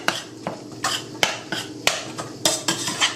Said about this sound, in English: So just fry it up quickly, fry up the mixture quickly like that